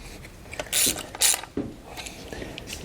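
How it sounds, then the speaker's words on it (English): A ratchet tightens bolts on a camper's helper spring bracket, giving a few quick bursts of sharp clicking close by against a quiet background. "These, we're going to go ahead and tighten into place."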